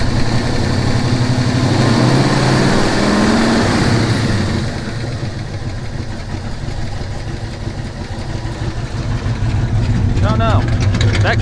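Ford Maverick engine idling at about 1,000 rpm with exhaust leaking slightly, a close steady low rumble with a faint possible knock, a voice talking over it.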